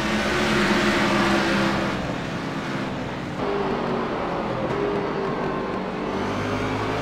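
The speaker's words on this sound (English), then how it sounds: "We hear these guys downshifting." Race cars roar through a circuit as engines drop through the gears into corners, a loud rumbling drone that dips and swells with shifting revs at mid distance.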